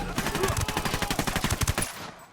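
Rapid automatic gunfire from a tactical shooter video game, Ghost Recon, set in a narco cartel mission: a steady rhythmic burst of close, loud shots lasting about two seconds, then cutting off.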